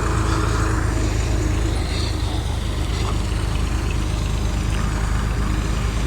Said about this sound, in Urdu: چلو ٹریکٹر کو گزرنے دو یار، یہ شور آ رہا ہے اس کا